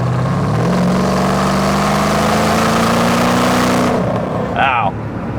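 A Porsche Cayenne Turbo S engine, about 600 horsepower, revs hard to about 6,500 RPM, its pitch climbing steadily and holding high before the throttle drops off, loud and close with a brief chirp at the end.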